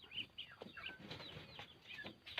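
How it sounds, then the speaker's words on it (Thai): A Thai fighting rooster of the Yia type clucks in short bursts, a few quick repeated calls at moderate distance with faint farmyard background and no talk. "ตัวนี้เป็นไก่เยียแน่นอนครับ"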